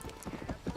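Horse hooves clip-clopping in the Red Dead Redemption video game, a quick series of soft close steps ending in a louder burst.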